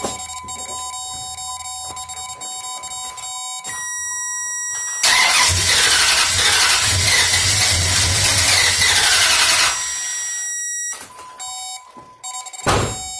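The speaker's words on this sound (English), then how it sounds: "So I'll do this here so you can hear it and see it." Starter motor cranks a 5.7-litre V8 Dodge Ram 1500 truck engine that fails to start, for about five seconds, loud and steady, between quieter stretches with a high electronic whine and brief clicks.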